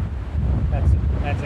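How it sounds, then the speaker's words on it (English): Strong wind buffets the microphone on a gray, empty beach on Pawleys Island, with a low rumble of ocean swells underneath and a few faint, brief higher tones. "It's windy."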